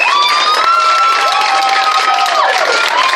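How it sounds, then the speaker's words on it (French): Wedding guests cheer loudly, with whoops, shouts and clapping blending into a dense, sustained roar of celebration from a crowd close at hand. "On va acclamer le Seigneur."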